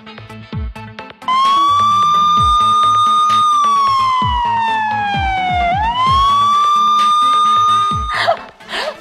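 A human voice imitates an ambulance siren, a loud sustained wailing tone that slowly falls and rises again, ending in a brief burst.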